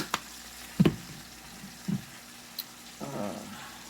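Cabbage cooking in a pot for Southern fried cabbage makes a low sizzle broken by a few soft knocks and clinks of a utensil, quiet and close, with no voices.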